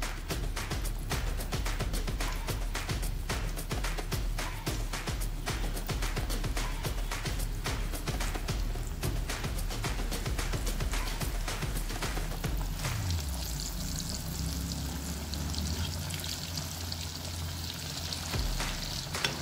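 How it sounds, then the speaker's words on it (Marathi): Gulab jamun for fasting frying in hot oil, a steady, dense crackling sizzle that carries on throughout, close and loud, shifting to a softer bubbling hiss near the end. "तळून घेऊया आता गुलाबजाम"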